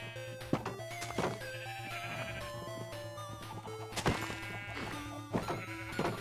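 Minecraft sheep bleat several times in a row over a steady game backdrop, their short wavering calls loud and close, mixed with a few sharp knocks and thuds.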